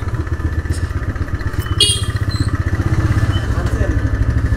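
A TVS motorcycle rolls into the Mouchak service centre, its engine giving a steady, close, low rumble with a brief louder rev midway, under people talking.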